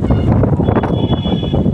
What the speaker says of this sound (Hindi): बहुत तेज़ हवा उठ चली रहा है।